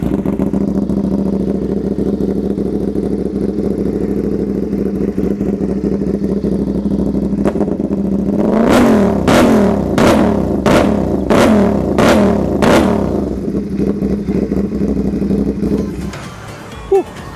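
A motorcycle engine, a CFMOTO NK450 or Yamaha MT-07, idles steadily, then revs sharply about half a dozen times in a quick rhythm before settling back to idle.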